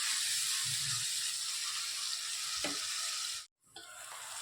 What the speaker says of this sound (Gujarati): સરસ આપણે સોતે કરી લઈએ અને 2 મિનિટ એને ઢાંકી અને ચડવા દઈએ